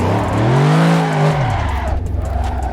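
Sim racing video game car spinning donuts, with loud continuous tire squeal rising and falling over the engine's drone, close and unbroken for nearly three seconds.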